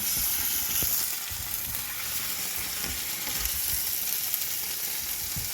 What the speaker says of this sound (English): so I'm just going to add the tomato. And we're going to stir that around.